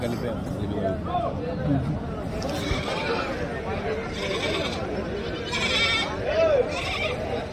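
Goats and young kids bleat at a weekly livestock market at Kadiri, with several cries rising out of the steady crowd noise. People talk over them throughout.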